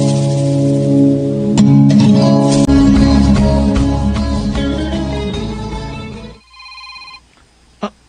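A cellphone ringtone plays loudly and steadily for about six seconds, a full melodic ring with music-like tones, then cuts off abruptly, leaving near silence with a faint trailing beep.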